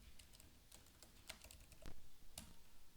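Computer keyboard typing a short terminal command, a quick run of crisp, close key clicks with uneven rhythm and a few firmer strikes, heard alone at low level.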